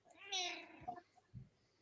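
A cat meows once in a long, drawn-out call close by, followed by a couple of soft low thumps in an otherwise quiet indoor room.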